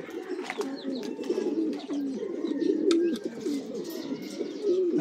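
Soft, throaty cooing from a young pigeon, repeated in a steady run of low warbling calls close by, with faint chirps in the background and no talking.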